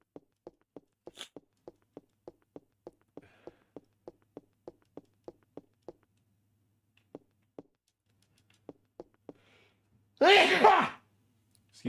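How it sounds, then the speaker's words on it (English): A single sharp, loud human sneeze bursts out after a long stretch of quiet, evenly spaced tapping, standing alone near the end. "My sneezes really come at you fast."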